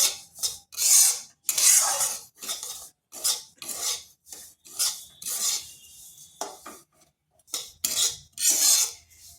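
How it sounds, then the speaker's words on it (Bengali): Semolina being stirred and fried in generous ghee in a pan for a milk cake, heard as repeated scraping and rasping strokes of a utensil against the pan in a steady irregular rhythm, close and fairly loud with no talk. "সুজিটাকে এইভাবে অনবরত ভাজতে হবে।"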